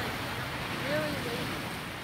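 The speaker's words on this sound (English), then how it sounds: "Waves. Lots of waves here." Rough waves in a bay make a faint, continuous wash of surf mixed with wind buffeting the microphone, with a brief voice sound partway through.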